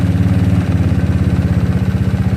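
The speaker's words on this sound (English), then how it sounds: "Let's idle it back down, shall we?" A GY6 scooter engine idles steadily up close, its low pulsing thrum dropping slightly in pitch partway through as the idle is turned down, with no voices.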